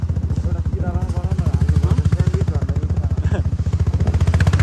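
A motorcycle engine throbs steadily and loudly during a ride along a narrow road near Pokhara, its rapid regular pulsing running throughout.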